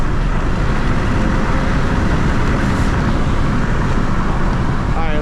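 Manual BMW 335is tuned to 400 hp accelerating hard with wheels spinning, a loud continuous roar of engine and road noise, close and unbroken.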